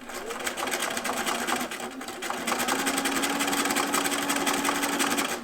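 A sewing machine runs in continuous fast bursts while stitching a tote bag handle with a double stitch line, a steady rattling whir close by with a brief pause partway through.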